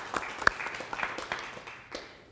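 Sparse, quiet applause from a symposium audience on urban streams: scattered individual claps in a loose, uneven rhythm, a few sharper ones standing out, fading slightly toward the end.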